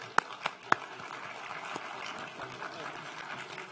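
A crowd claps for esports teams at a university award show, a thin scattered applause with a few sharp louder claps near the start that then settles into a softer patter under faint room noise.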